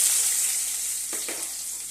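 Onions dropped into hot oil in a deep frying pan give a steady, loud sizzle, and a couple of brief stirring scrapes come through near the middle.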